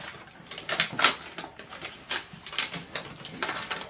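Scissors roughly cutting out a paper Peter Pan collar pattern, with a series of crisp snipping and rustling bursts close by, quick and uneven in rhythm, no talk.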